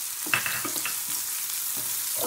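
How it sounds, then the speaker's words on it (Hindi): Cumin, onion and green chili hit hot oil for cauliflower bhurji, a steady close sizzle with brief crackles and stirring scrapes. "अब हमारा ऑयल गरम हो चुका है, अब हम इसमें डालेंगे जीरा, फिर ऑनियन और ग्रीन चिली।"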